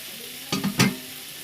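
Boiled fish pieces dropped into hot oil in a kadai, giving two quick sizzling splashes close together, then a steady faint hiss.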